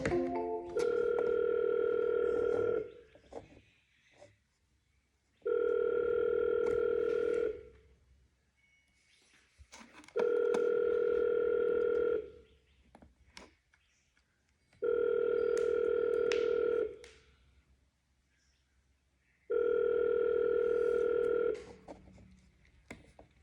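Outgoing telephone call on an agent outreach line, with five evenly spaced ringback tones, each lasting about two seconds with quiet gaps between, clear and steady.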